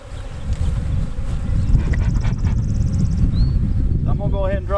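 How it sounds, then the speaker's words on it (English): Agitated honeybees swarm at an open hive during queen grafting, a dense, loud, low droning buzz all around, with someone speaking briefly over it. "Them bees there ain't happy."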